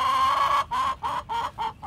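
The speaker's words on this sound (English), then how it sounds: "Chickens having a field day over here. Talking junk." Chickens cluck in a quick rhythmic series of five or six short calls beside a squash row, close and fairly clear, with no talking.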